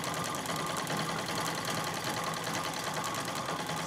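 A Singer 66 treadle sewing machine hums and clatters in a continuous dense whir during free motion quilting, steady and close with no pauses.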